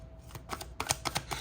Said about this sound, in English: So I'm going to give this deck another shuffle